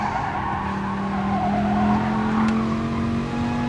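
A race car on the Dragon Trail Seaside circuit in Gran Turismo Sport accelerates hard, its engine note climbing steadily in a loud continuous whine with faint tire noise, with no talk.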